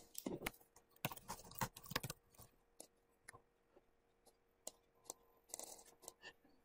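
Someone types on a computer keyboard, close and fairly quiet, giving irregular bursts of key clicks with short pauses between them.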